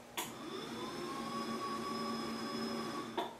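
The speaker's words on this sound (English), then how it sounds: "Let me raise my flexi spot desk." A motorized FlexiSpot standing desk raises with a steady electric motor hum lasting about three seconds, starting and stopping with soft clunks, close and alone.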